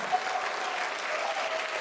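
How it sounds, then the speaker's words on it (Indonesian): Steady applause fills a school welcome gathering at Alexandria Islam School, a dense, even clatter of many hands clapping without pause, fairly loud and close, with no one speaking over it. "Tepuk tangan."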